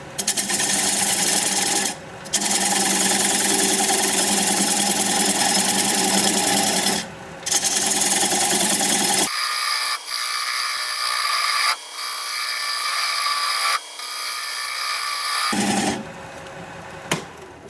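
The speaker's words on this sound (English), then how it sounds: "I'm going to use a 3/8 inch bowl gouge and commence to removing that tenon." A 3/8 inch bowl gouge cuts away an aromatic cedar tenon on a wood lathe, giving a loud, steady rasping whir with brief pauses, then quieter lighter cutting passes in the second half.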